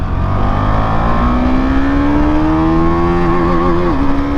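A KTM Duke motorcycle accelerates hard on a highway, its loud engine rising steadily in pitch through a single long pull with a brief dip near the end, continuous and close.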